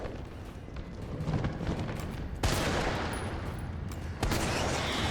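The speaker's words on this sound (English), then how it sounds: "nearly dumped a whole mag into that thing" Rapid gunfire as a magazine is emptied in Resident Evil 3 Remake (2020): a dense, sustained burst of shots with two sharp surges in intensity, fairly quiet overall and with no talking.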